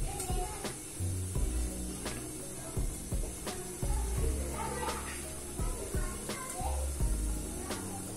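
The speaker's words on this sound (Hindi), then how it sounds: "तो फ्रेंड ये देखिए इसमें चटकने की आवाज आ रही है" Popcorn kernels popping in a covered pan over a high flame, with sharp, irregular pops scattered over a steady background hiss.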